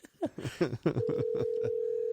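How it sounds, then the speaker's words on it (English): A telephone call is placed and waits for an answer: a quick run of dialing beeps gives way to a steady, unbroken call tone that holds alone to the end. "So we will wait for the caller to answer the phone."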